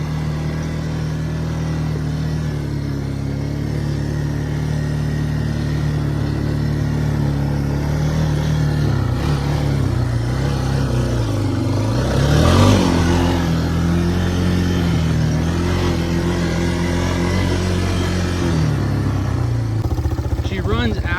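A rough-looking Yamaha BearTracker ATV with barely working brakes idles and runs steadily, the engine rising in a brief rev midway before settling back, loud and close throughout with a voice talking over it.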